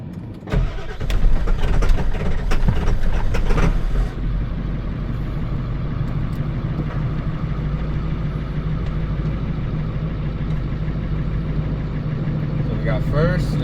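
A Ford F250 truck with a freshly rebuilt transmission, its engine loud and close, a burst of revving and clatter at first, then a steady idle rumble that holds for several seconds.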